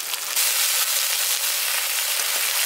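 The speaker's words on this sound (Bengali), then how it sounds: "এবার সামান্য একটু জল দিয়ে আমি এগুলোকে ভালো মতো একটু কষিয়ে নিচ্ছি" Onion, tomato and spices sautéing with a splash of water in a pan for a village-style rohu fish curry: a steady, close, bright hiss and sizzle, continuous throughout with faint stirring.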